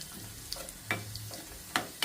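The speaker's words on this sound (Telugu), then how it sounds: "ఈ తాలింపు బాగా కొంచెం ఈ ఉల్లిపాయ దోరగా వేగిన తర్వాత" Sliced onions and dried red chillies frying in oil for a tempering, a soft close sizzle broken by a few sharp pops and stirring scrapes, fairly quiet with no voices.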